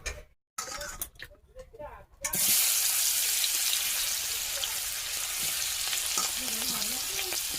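Onions and chilies frying in oil in a wok. Muffled voices and kitchen clatter come first, then a loud, continuous close-up sizzle takes over and stays steady to the end.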